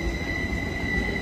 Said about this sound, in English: Caltrain 608 now departing Santa Clara Station.